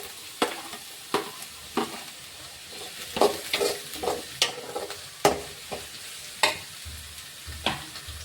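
Green chillies sizzle and fry in hot oil while a spoon stirs them, giving a steady crackle with sharp clattering scrapes at irregular intervals.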